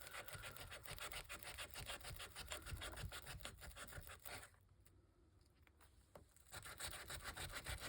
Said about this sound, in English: Take the little sander here.